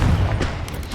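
A dense, booming magical blast spell from Hogwarts Legacy, a Confringo cast filling the second with a heavy low rumble and a sharp burst mid-way, no voices.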